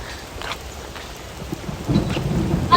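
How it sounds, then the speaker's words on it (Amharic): Rain falls steadily with low thunder rumbling in, growing louder and heavier toward the end of the short stretch; no one speaks. "ዝናብ እየዘነበ"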